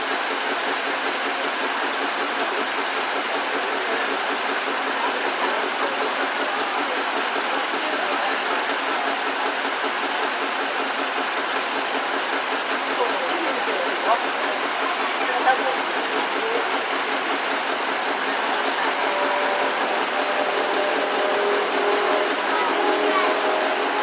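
A 1923 Detroit-built vintage tractor engine runs on trembler ignition at an outdoor vintage machinery show, giving a steady, continuous rushing drone at moderate distance with no clear pauses.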